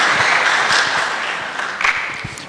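A crowd's welcome applause for a lecturer at a Wetlands Day 2024 keynote talk tapers off, scattered claps growing sparser and quieter over a couple of seconds.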